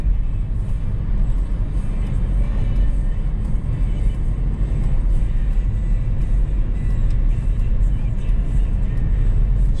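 A Datsun Z car cruises at highway speed, with a dense, steady roar of engine and road rumble continuing unbroken throughout, loud and close as if heard from inside the cabin.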